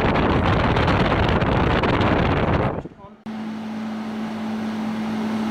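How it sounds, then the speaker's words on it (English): A room air conditioner runs with its compressor on, blowing cold air: a loud, steady broadband rush that briefly drops out, then returns as a quieter whoosh with a constant low hum. "It's running well. It's blowing cold air at the moment."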